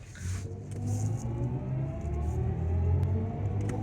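A BMW i7 xDrive60 in sport mode drives along with a smooth synthetic whirring drone that layers steady tones and rises slightly in intensity, heard from inside the cabin.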